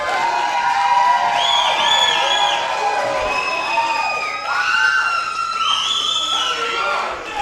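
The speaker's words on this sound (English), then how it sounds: "This crowd, as you can hear, absolutely deafening for Chris Kanyon." A wrestling crowd at a PWA show cheers loudly and continuously, with shouts, whoops and high-pitched screams filling the arena, steady and deafening throughout.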